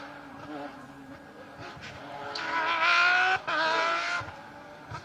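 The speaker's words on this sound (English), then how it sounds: "you can hear the Porsches coming from a mile off" A Porsche rally car on a special stage of Rally Wervik 2022 approaches, its engine note climbing and revving louder to a peak, then briefly easing before pulling on, heard from the roadside.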